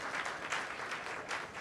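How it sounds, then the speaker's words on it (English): Audience applause at a ventures summit, a short dense burst of clapping from a crowd that stays steady throughout without fading. "Round of applause."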